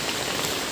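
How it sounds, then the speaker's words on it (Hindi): Rain falling on a rooftop, a dense steady patter of drops, close and even, with no voices. "ये देखो बारिश।"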